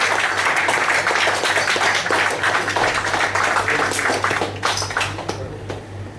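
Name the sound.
audience applause at installation ceremony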